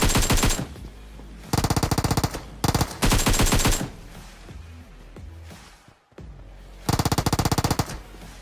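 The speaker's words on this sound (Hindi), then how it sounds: "अब वो फायर करके रिलोड कर रहा था।" Rapid automatic gunfire in a bridge-camping multiplayer shooter game, loud close bursts of rattling shots separated by short pauses and quieter reload and movement sounds, with no talk.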